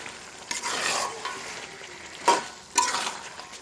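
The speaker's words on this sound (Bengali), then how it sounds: "এই গোশগুলো দিয়ে দিচ্ছি।" Chicken pieces added to fried spices in a pan and stirred, giving a soft sizzle with several distinct scraping stirs and clatters of the spoon against the pan.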